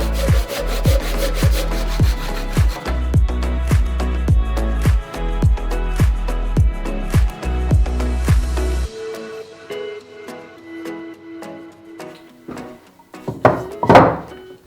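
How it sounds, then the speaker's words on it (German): A miter saw bites through thick 70 x 70 mm wooden beams in a long series of rhythmic cutting strokes, then stops, followed by quieter knocks and a clatter of wood. "die Balken sind so dick, 70 x 70 mm, dass das Sägeblatt der Kappsäge im Gärungsschnitt nicht ganz durchgeht"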